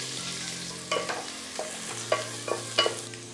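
Onions fry in sizzling oil under a low hum while a utensil scrapes and stirs through the pan in several distinct strokes.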